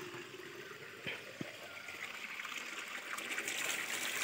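Water runs at a village water source in the hills, a soft continuous trickle and gurgle with a couple of brief knocks, heard faintly from close by without speech.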